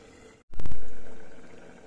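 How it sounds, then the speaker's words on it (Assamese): Meat curry bubbles in a pot with coriander and jaluk pepper. A brief hush gives way to a loud surge of boiling that slowly fades to a softer simmer. "অলপ সিজি লওক"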